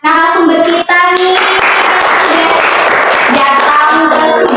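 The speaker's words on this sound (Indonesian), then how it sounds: "Beri tepuk tangan dong buat narasumber kita nih" Small studio group on an Indonesian podcast clapping for the guests, a short, brisk burst of hand claps close to the microphone, with voices speaking and laughing over it at the start and end.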